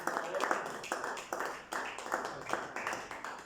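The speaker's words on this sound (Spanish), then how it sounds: "Dale un fuerte aplauso al Señor." Congregation applause inside a church, a sustained wash of many hands clapping with steady, dense rhythm and slight swells, filling the room at moderate loudness.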